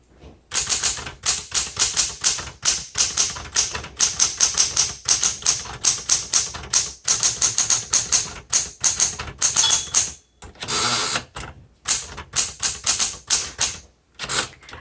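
A 1970s Smith Corona Galaxie Deluxe manual typewriter being typed on, with rapid crisp key strikes in quick bursts and brief pauses, close and loud, no talking over it.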